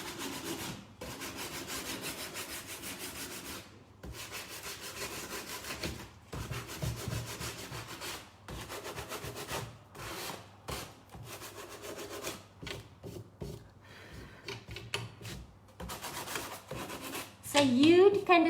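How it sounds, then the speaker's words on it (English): Sandpaper rubs back and forth over a wooden photo frame painted with Tjhoko Paint in steady, close scratchy strokes with brief pauses between passes, pressing harder on the detail. "So you can decide when to stop sanding"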